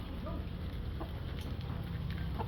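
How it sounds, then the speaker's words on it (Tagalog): Chickens kept at a family home cluck softly at close range, with a few brief calls rising over a low, steady background hum. "May manok."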